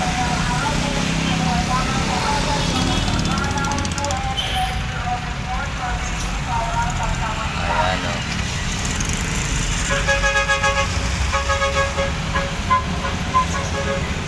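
Steady road traffic near a pier, with cars and trucks passing continuously and occasional horn toots, while people talk over the flow of vehicles.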